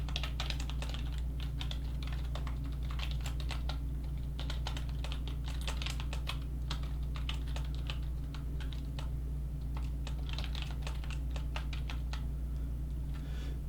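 Rapid, steady typing on a computer keyboard while writing Python code, a dense run of close clicks and key taps continuing without pause over a low constant hum, with no talking.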